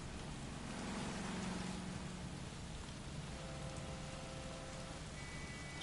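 Steady, even rain in the video game L.A. Noire, a continuous wash of hiss that fills the whole stretch at low volume, with faint tonal hum underneath and no voices.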